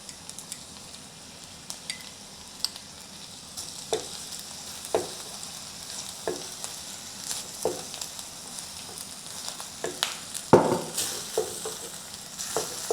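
Potato and minced pork being stir-fried with sauce in a wok, a soft continuous sizzle with scattered scraping and clinking of the spatula, getting busier and louder toward the end.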